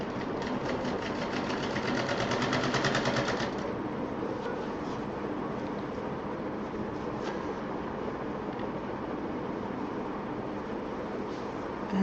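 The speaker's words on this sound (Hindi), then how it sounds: "अब ये पूरी पाइपिंग इस तरह से पलटते हुए सफाई से सिल देंगे" A sewing machine runs in a fast, steady rattling burst for about three seconds while stitching fabric piping around the corner of a pouch. Afterward there is only a continuous low background hum.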